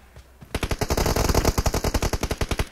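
Rapid automatic gunfire in PUBG Mobile during a 2v2 team deathmatch, a burst of about twenty close, loud shots in even rhythm after a short quiet lead-in.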